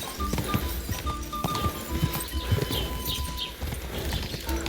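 Rhythmic hoof clip-clops of a galloping horse in Kingdom Come: Deliverance 2, with synthetic, game-like tones and chirps layered over them; no talking.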